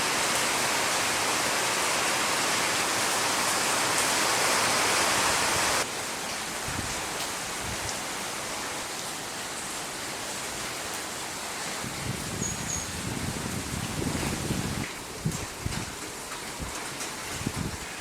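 Rain falls steadily as a dense hiss, loud and close at first and then softer and more distant, with scattered nearby drips and patters toward the end.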